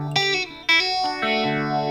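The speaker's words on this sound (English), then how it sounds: "I was gonna say it's a pretty viscous kind of phaser," Electric guitar played through a Ross phaser pedal, a thick, swooshy sweep over sustained chords, with a few separate strummed hits and notes ringing out alone with no talking.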